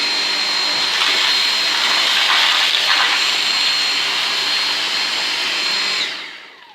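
A Dyson V6 cordless vacuum cleaner sucks crushed biscuits out of carpet pile, a loud steady high-pitched whine and airy roar that holds alone for about six seconds before winding down.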